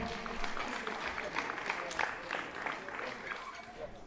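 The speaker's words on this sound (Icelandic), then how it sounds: "gefum henni gott klapp." Audience applause at a powerlifting cup competition, a steady broadband wash of clapping and crowd noise held at moderate level for the whole stretch, with no clear individual claps standing out.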